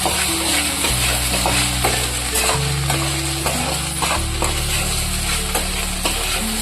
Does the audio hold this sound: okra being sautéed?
yes